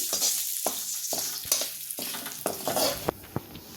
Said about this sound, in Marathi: आता मी तमालपत्र तेलात तळून घेते.